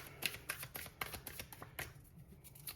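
Oracle cards being shuffled by hand, a quiet run of soft riffling flicks and slaps in an uneven rhythm, close and gentle, with no talking.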